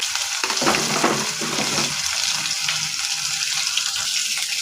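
Urad dal, chana dal, mustard seeds, cumin and curry leaves tempering in hot oil produce a loud, continuous close sizzle with some clattering stirring in the first two seconds.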